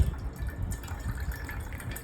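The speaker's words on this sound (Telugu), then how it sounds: "ఇప్పుడు మనం వాటర్ని కలెక్ట్ చేసుకుందాం" Water from an opened tender coconut pours out in a short trickling stream, with small uneven splashes and drips close by.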